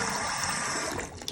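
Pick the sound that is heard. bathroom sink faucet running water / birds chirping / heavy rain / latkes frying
bathroom sink faucet running water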